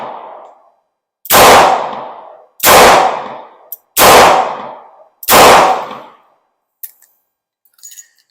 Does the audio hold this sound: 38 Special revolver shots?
yes